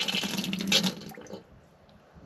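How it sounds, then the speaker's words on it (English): Water gurgling and sputtering through newly installed pipes in a guest house renovation, loud and bubbly at first, then fading to a quieter trickle. "Water's coming next. I hear it gurgling."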